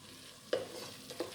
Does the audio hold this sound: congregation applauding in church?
no